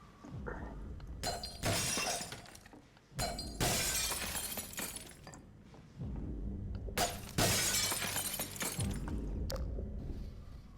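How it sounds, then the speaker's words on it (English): Windows shattering in Half-Life 2, several separate loud crashes of breaking glass spread out with bright tinkling debris trailing after each break and quieter gaps between them. "By the way, I love breaking these windows."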